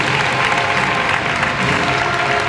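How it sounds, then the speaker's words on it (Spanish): Steady applause from an audience at a futsal club's team presentation for SD Hispania, a dense wash of many hands clapping continuously at moderate loudness, with no one speaking. "Fortísimo aplauso a todas ellas"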